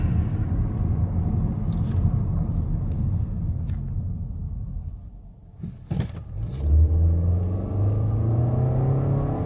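Nissan Altima 2.5 SV with a CVT pulling away, a steady low engine drone that briefly dips, then rises into a climbing whine as it accelerates, heard from inside the car.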